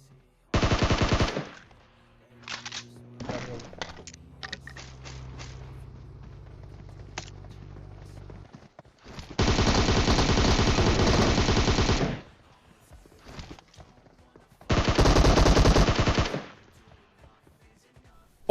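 Bursts of M16 rifle fire in a shooting video game: three long automatic volleys and several short shots, loud and close, with quieter game sounds between them.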